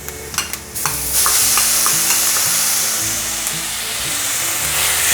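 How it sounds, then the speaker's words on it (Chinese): Carrot puree stir-fried in a wok with ginger and celery, a steady close sizzle under repeated scraping stir strokes, a few sharp clinks at the start, no voices. "把红萝卜泥炒香"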